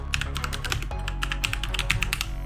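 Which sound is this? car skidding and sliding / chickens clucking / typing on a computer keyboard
typing on a computer keyboard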